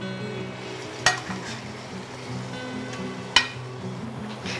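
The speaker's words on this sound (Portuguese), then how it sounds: "a gente vai virar do outro lado o peixe" Fish frying in a pan in a wine sauce gives a steady low sizzle, and two sharp clinks ring out as the fillets are turned over.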